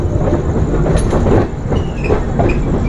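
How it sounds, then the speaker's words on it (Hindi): The Gitanjali Express, train 12859 from Mumbai to Howrah, clatters over a diamond crossing: loud, close rhythmic wheel knocks and rattling carriage rumble, with faint squeals of wheels on rails. "ये अपनी डायमंड क्रॉसिंग"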